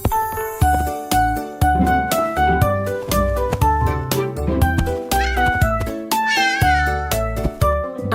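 Cartoon cat meowing in a children's song, a couple of short rising meows popping up over a bouncy, busy musical backing with chimes and a steady beat.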